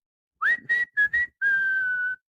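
Clear human whistling during a Yankees baseball watch-along stream: three short rising notes, a pair of quick blips, then one long sustained tone, loud and close with no talk.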